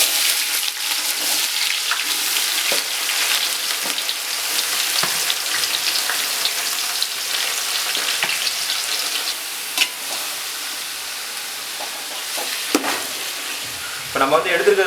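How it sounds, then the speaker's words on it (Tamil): Large onions fry in hot oil with fennel seeds for a Chettinad country chicken gravy, a steady close sizzle broken by occasional clinks and scrapes of stirring, with no talking. "அது கூட நம்ம வெங்காயம் சேர்த்துக்கலாம்."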